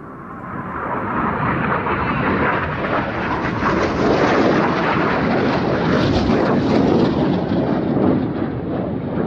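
A Red Arrows jet, Red 8, roars through an opposition barrel roll at an air festival, a loud, sustained broadband jet roar that holds steady and swells slightly as it passes.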